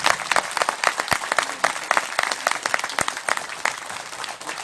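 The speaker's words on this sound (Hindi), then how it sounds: "ताली अच्छे से बजाना" Audience clapping at a spiritual gathering, many hands beating in a busy, fairly close and steady patter that fills the whole stretch without any voices.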